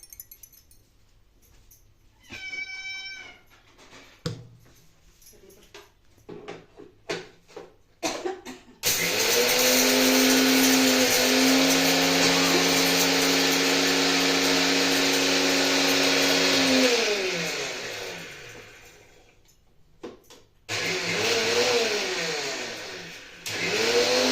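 A mixer grinder whirs loudly as it grinds roasted masala spices for a North Karnataka green chilli chutney, running in a long sustained burst after some clatter, stopping briefly, then starting again.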